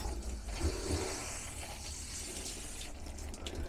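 Water mixed with antifreeze sprays from the cold side of an RV shower head during winterization of a Boler camper, a steady hissing gush running continuously throughout, with no talking.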